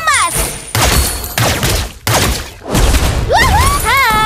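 Rapid bursts of golden bullet shots from the hero Layla in the mobile game Mobile Legends, several loud punchy volleys with a game announcer voice and rising synth effects near the end.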